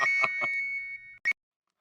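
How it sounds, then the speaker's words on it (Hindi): A phone rings with a few electronic tonal pulses, then stops, followed by a short final chirp; close, clear, no voices over it. "हाँ फिर से बासुंदी का फोन होगा।"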